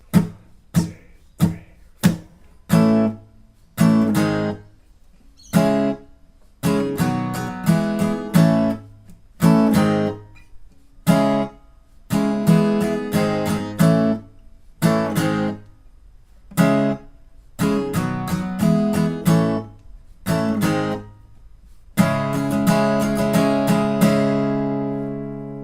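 An acoustic guitar strums the verse chords of a song in a choppy down-up rhythm, with bursts of strokes broken by short muted gaps and a final sustained ring, played alone and close.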